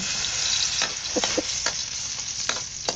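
Garlic sizzles loudly in hot oil in a pan for ginisang ampalaya, a continuous bright frying hiss broken by a few sharp clinks and scrapes of stirring.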